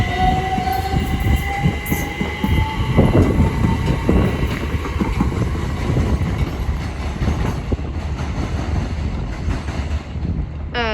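A Great Northern Class 387 electric train, unit 387120, passes through Cambridge station on the King's Cross service, its steady rumble and rising motor whine loud and close, with wind buffeting the microphone throughout.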